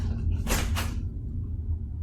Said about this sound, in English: You don't want to open them to see your bedroom door opening.